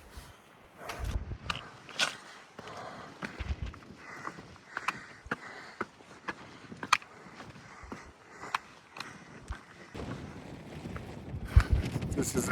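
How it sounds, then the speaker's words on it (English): Strong gusting wind buffets the microphone on the exposed summit of Saddleback Mountain along the Appalachian Trail in rainy weather, a continuous loud rushing roar with sharp gust peaks and brief breathing or sniffing sounds close by. "I'm about to bust back out in the wind again."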